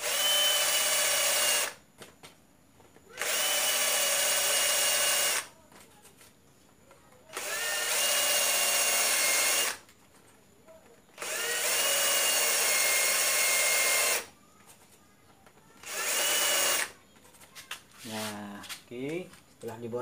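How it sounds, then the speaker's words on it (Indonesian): A power drill whirs in repeated bursts of a few seconds each, drilling a motorcycle fairing to fit a mirror, loud and close, with short pauses between and a brief ratcheting sound at the end. "Kita pakai bor cun, nih bor cun."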